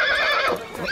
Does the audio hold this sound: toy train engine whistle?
no